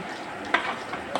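A cooked mixture of green gram and grated coconut gets stirred in a pan, giving a short scraping, sizzling rustle with a couple of sharper strokes, close by.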